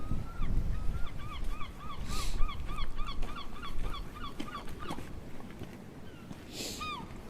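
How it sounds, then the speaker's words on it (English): Seagulls calling on the coast, a run of repeated yelping cries in quick succession over a steady wind-like rush, with a few louder bursts and one last call near the end. "Always very comforting to hear the seagulls"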